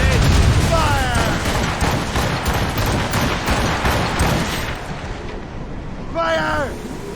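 Naval cannons fire from a sailing warship in Assassin's Creed Rogue, a series of loud booming blasts under shouted crew orders, with wind and sea noise, tapering off before a final burst.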